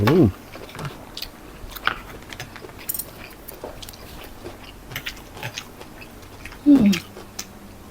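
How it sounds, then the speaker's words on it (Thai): Crispy pork belly eaten alongside vegetables such as oyster-sauce Chinese kale with shiitake, bitten and chewed close up. A few crunchy bites and chewing sounds come in short irregular bursts, the loudest near the start and end, with faint murmurs between. "เคี้ยวให้กรอบหอม"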